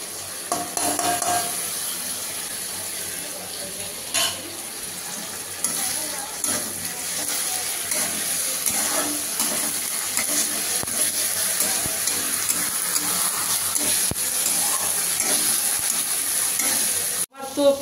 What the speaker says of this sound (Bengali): এবারে আমি মশলা বাটাটা দেবো।